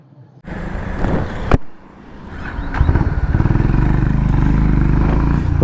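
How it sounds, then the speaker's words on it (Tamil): Honda CB 350RS motorcycle ridden on the road, its engine rumbling steadily and building into a loud, sustained drone after a brief clatter and a quieter dip, close to the microphone with no talking. "இந்த வண்டியை நான் ஓட்டும் போது உங்களுக்கு கண்டினியூ பண்றேன்."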